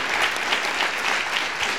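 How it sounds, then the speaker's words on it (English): Audience applause in the auditorium at MaRS, a dense, even burst of many hands clapping at once, loud and continuous for the whole two seconds. "You want applause for him too?"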